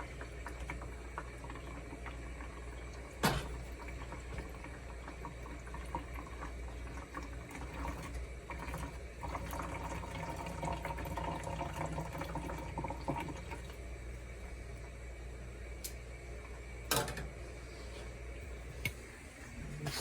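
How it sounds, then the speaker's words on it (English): Fireweed jelly liquid is dipped out and left to drain, a soft continuous trickle and pour of liquid, fairly quiet, broken by a few sharp clinks of utensils, with no voices. "I'm just going to dip some of this out and let it just kind of drain out there for a little bit"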